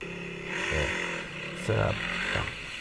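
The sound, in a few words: trail motorcycle engine revving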